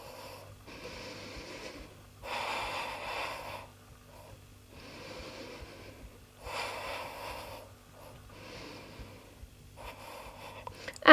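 Slow, deep breathing during a core yoga pose, with several long audible inhales and exhales spaced a few seconds apart, close and fairly soft.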